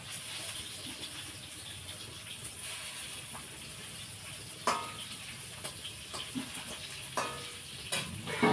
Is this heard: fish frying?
yes